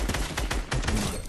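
Video game gunfire, a quick burst of several close, sharp shots in rapid succession, loud and with no talking.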